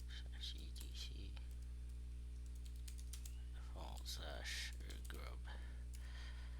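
Keys clatter on a computer keyboard as a terminal command is typed for a Ubuntu 24.04 and Windows 11 dual-boot setup, a fast irregular run of close clicks over a steady low hum with a brief spoken murmur.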